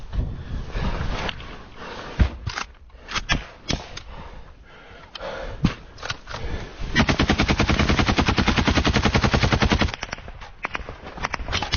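Assault rifle gunfire during a firefight as a Ukrainian soldier defends his position against a Russian attack, scattered sharp shots building into a long rapid automatic burst, loud and close.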